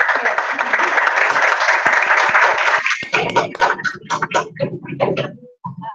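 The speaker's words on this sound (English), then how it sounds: "Why are you clapping?" An audience at an African CV and resume bootcamp claps after a session, a dense burst of many hands for about three seconds that breaks into a few scattered, separate claps as it dies away.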